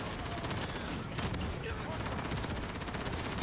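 Gunfire and explosions fill a Call of Duty Modern Warfare match: a busy run of quick shots and bursts, fairly faint and continuous, ending on a sudden louder hit.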